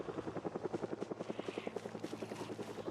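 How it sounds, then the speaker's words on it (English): A helicopter approaches in the video game Project Zomboid, its rotor thudding in a rapid even chop, moderately faint and steady. "Why is this heli always gonna come when the sun's going down?"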